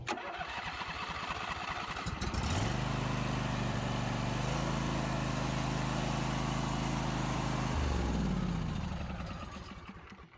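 A riding lawn mower cranks for a couple of seconds, then its engine catches and runs steadily at a loud, close idle, with the sound tapering slightly near the end. The mower had a long-cranking starting problem that has been fixed.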